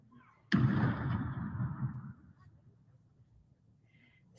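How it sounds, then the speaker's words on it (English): One cannon from a ceremonial gun salute at a Qatar state visit booms out with a sharp sudden blast, then a rolling rumble that fades over about a second and a half into quiet. "all these cannons going off were amazing"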